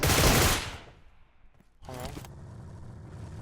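A dense burst of rapid automatic gunfire in PUBG Mobile, loud and close at the start, fading to quieter in-game rumble and a brief mechanical rattle.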